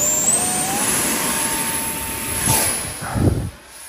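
A hand-launched X-29 model jet whines past with a rising electric ducted-fan tone, a loud steady rush of flight noise close by that swells and fades as it climbs away.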